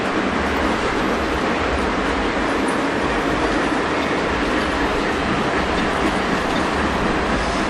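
Steady, continuous rumble of a model freight train rolling along the track, with constant clattering wheel noise and no voices.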